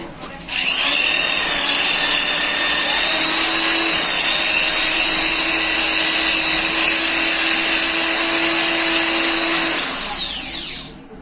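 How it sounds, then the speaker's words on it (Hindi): Electric drill machine boring holes into a wall for fitting electrical casing and capping strips, a loud steady high-pitched whine running continuously for about nine seconds, close up, with no talking. "मैं दूर दूर मैंने ड्रिल मशीन का उपयोग किया है"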